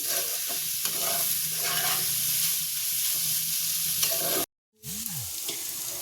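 Cheese, egg and paneer bhujia sizzling loudly in a pan while it is stirred and mixed, a steady hiss with faint scraping, briefly cut to silence before resuming.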